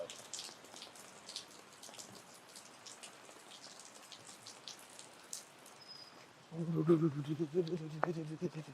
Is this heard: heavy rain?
yes